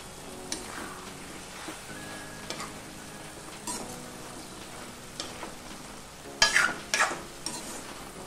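Tomatoes for a tomato and red chilli pickle simmer and sizzle in an open pan with steady low crackling, stirred now and then with a few louder utensil scrapes near the end.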